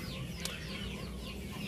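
A European Shamo hen clucks softly among other chicken sounds, with low barnyard noise throughout and a brief sharp click.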